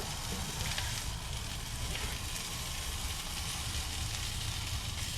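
Garlic added to frying potatoes in a pan, a loud, steady crackling sizzle with dense popping throughout and no talk.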